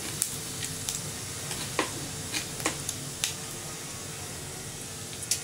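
Cumin seeds sizzle in hot oil for a South Indian beans curry, a steady frying hiss broken by scattered sharp pops and crackles, close and fairly loud with no talking.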